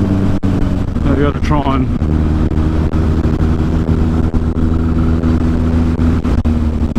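Yamaha XS1100 cafe racer with a big bore kit and performance head, ridden in fifth gear: a loud steady low engine drone with wind rush, while a rider talks over it.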